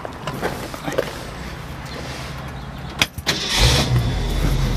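A 1965 Ford Mustang GT convertible, recently fitted with a new gas tank, cranks briefly and then fires, its engine catching near the end and settling into a loud, steady low running rumble.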